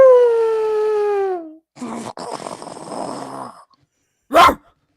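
A voice imitating the three-headed hellhound Kerberos, a sword transformed into a dog, gives a long harmonic growl, then a rough, throaty snarling stretch, ending with one short loud bark after a pause.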